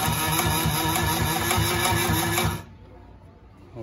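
A Consew 369RB-2 split needle bar high post sewing machine with 3/8 gauge stitches at speed in a loud, close, rapid mechanical whir for about two and a half seconds, then stops abruptly.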